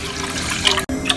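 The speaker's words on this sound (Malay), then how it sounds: "So mula-mula kita masukkan 4 cawan air tau." Water is poured into a cooking pot in a home kitchen for a bamboo shoot recipe, giving a close, splashing, gurgling flow that runs briefly and is cut by a short break.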